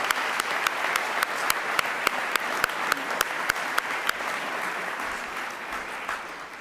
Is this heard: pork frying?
no